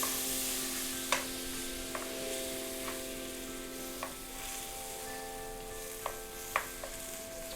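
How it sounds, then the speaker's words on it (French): Butter melts in a pan for curry cream mussels, giving a steady, gentle sizzle with soft stirring clicks and occasional light taps of a utensil against the pan. "Nous allons pouvoir commencer à faire fondre notre beurre."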